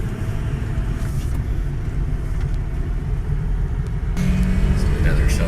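Ford Powerstroke diesel truck engine rumbling and accelerating, a heavy low drone that grows louder near the end, with a voice talking over it.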